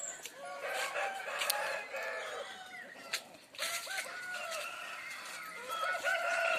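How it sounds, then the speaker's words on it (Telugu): A fighting rooster raised for Sankranti cockfights crows loudly and close, drawn-out crowing calls repeating over several seconds with some clucking between them, no talking. "ఈ కోడిని నేను ప్రత్యేకంగా పెంచుతున్నాను. సంక్రాంతికి దీన్ని నేను బరిలో దింపేది"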